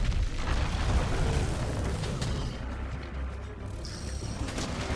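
Bazelgeuse's bomb exploding in Monster Hunter: World, a heavy booming blast that rumbles loudly and decays into crackling debris and lingering roar over several seconds.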